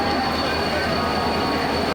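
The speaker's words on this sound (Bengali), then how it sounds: "আমাদের ট্রেনটা ঢুকছে" Duronto Express train rolling into a station, a loud, steady rumble of wheels and carriages with a squeal, continuous and close, filling the whole stretch before cutting off abruptly.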